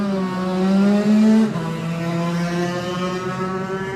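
Laylor Racing Yamaha lightweight classic motorcycle pulling away at the Classic TT, its engine note climbing loud and close then settling into a steady buzzing drone as it moves off.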